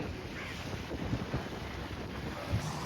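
A boat moves through harbor water at Dighi, a steady wash of water and engine churn under heavy wind buffeting on the microphone, with no voices.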